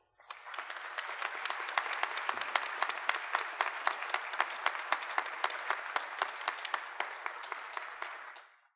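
A university honors convocation audience applauds as a speaker heads to the podium, steady crisp clapping from many hands that swells in, holds evenly for several seconds and then tapers off, alone with no talk.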